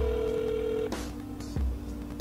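An answering machine sounds a long, steady electronic beep lasting just under a second, followed by faint line noise and a soft click, with no talking.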